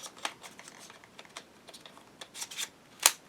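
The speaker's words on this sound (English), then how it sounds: "Nice little clicking action." Nintendo Switch Joy-Con controllers being slid and clicked into the plastic grip, giving a run of light, close, quiet plastic clicks and rattles ending in one sharper snap.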